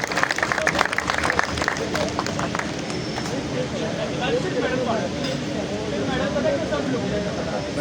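Steady crowd clapping fills the hall as a senior qawwali performer is honoured on stage, dense and continuous, somewhat louder and more scattered at the start before settling into an even roar.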